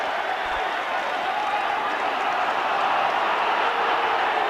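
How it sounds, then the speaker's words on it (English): A rugby league stadium crowd at a 1997 Wigan versus Bradford match voices its displeasure, a broad sustained roar of jeers and murmurs heard from a distance, steady and dense throughout, with no clear talk on top. "Well, the crowd don't like it."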